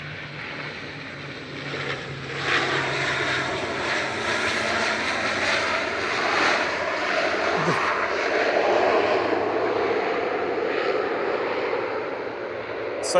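An airliner lands at Manchester Airport, its engines roaring in a broad, steady rumble that swells slightly as it touches down and rolls out, heard from a distance.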